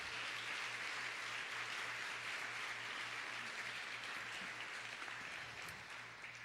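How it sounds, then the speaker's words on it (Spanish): Dense, continuous applause from a church congregation during a Sunday service, steady and moderately loud, easing slightly near the end, with a low rhythmic hum beneath. "Denle un gran aplauso al Señor"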